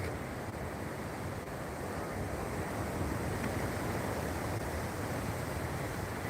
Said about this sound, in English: Ah, I'm glad you can hear it. Yes, it is the Atlantic Ocean.